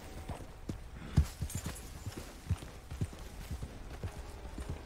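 Horse hooves clip-clop steadily through Red Dead Redemption 2 as the animal walks, a run of soft, close, evenly spaced thuds continuing from start to end with no talk over them.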